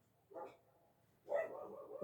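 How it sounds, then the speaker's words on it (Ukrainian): A dog barks outdoors in two separate bursts: a short one first, then a longer, more sustained run of barking, fairly quiet and somewhat distant. "Якщо на вулиці гавкає собака"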